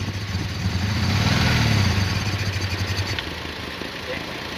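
A motorcycle engine runs after being started, a close low idling rumble that swells, then settles and fades a little toward the end, with people talking faintly over it.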